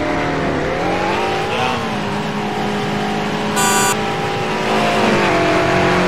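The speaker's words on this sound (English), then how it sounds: "Of course Michael spawns in that Ferrari." Ferrari engine in a Roblox driving game, a steady droning hum that rises and falls with revving and shifting pitch, loud and continuous throughout, with a brief bright buzzer-like burst in the middle.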